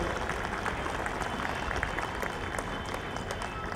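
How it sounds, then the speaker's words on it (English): An audience at a school function at St. Stanislaus High School in Bandra applauds the managing committee, a loud, continuous wash of many hands clapping with no pause. "I think they need applause."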